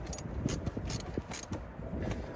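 Ratchet work tightening a battery terminal on a 2006 Volvo XC90, heard as quiet, irregular mechanical clicks and creaks close by with no talking.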